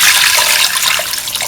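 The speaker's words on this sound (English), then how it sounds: "Now pour in 300 ml of water." Water, 300 ml, poured into a pot of mung bean and tomato stew, producing a steady, close splashing rush that fades slightly toward the end.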